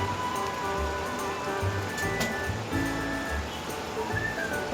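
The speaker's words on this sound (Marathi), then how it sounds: "आता उकळत आहे." A pot of water with vegetables in it boils on a kitchen stove, giving a continuous soft bubbling and sputtering that holds steady throughout.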